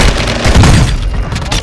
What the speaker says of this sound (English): Oh, he's got a fucking minigun.